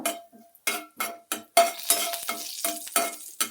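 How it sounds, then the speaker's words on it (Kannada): Cumin seeds and a few black peppercorns crackle and splutter in a hot pan for a Karnataka fern-shoot tambuli, in a string of sharp sizzling bursts at uneven intervals, close and fairly loud with no talking. "ಜೀರಿಗೆ ಸಿಡಿಬೇಕು"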